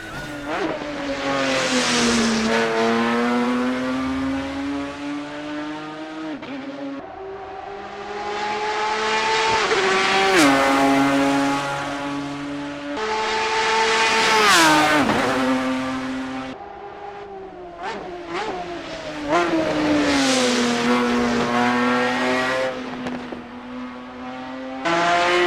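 A race car from a GT Legends mod pack for Assetto Corsa revs hard through repeated upshifts, its engine climbing and dropping in steady waves. Tires squeal through corners, and the car sounds close and loud throughout.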